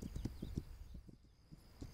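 Horse hooves clip-clop in a steady, close rhythm while riding in the open-world survival game This Land is my Land, with a thin tonal hum behind.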